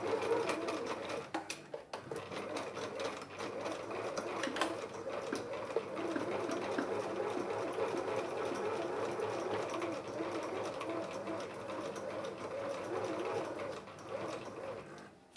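Sewing machine stitching steadily through fabric for a heritage mini album craft project, a continuous close mechanical whir and rapid needle patter that runs without pause, with slight variations in speed.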